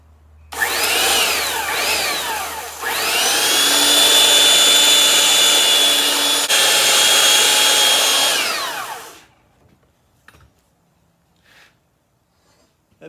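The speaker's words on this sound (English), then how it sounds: "I'm going to take a belt sander and just quickly run" A belt sander runs over tarnished copper garden art, a loud close whining roar that revs up in two quick bursts, then holds steady for several seconds before spinning down into near silence with faint clicks.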